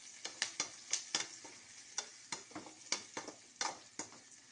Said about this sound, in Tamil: வெங்காயத்தை நன்றாக வதக்கி